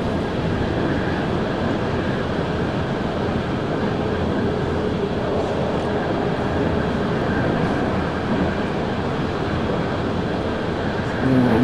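A locomotive rolls through a curve in Train Simulator 2020, a continuous rumbling rail drone with faint wheel and track noise, steady and fairly loud, with a brief brighter squeal near the end.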